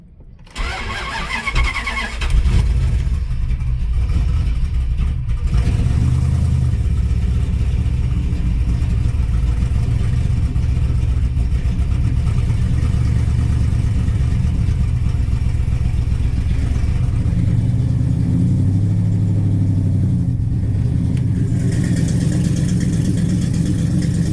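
A Dodge car engine on a cold start in freezing weather cranks and catches, then settles into a loud, steady running rumble as the car is driven, with a brief rise in revs near the end.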